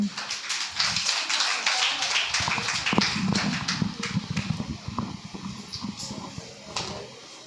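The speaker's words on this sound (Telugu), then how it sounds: "చప్పట్లు." Audience applause at a church gathering, a dense patter of many hands clapping steadily for several seconds, loud and close, with faint voices mixed in beneath.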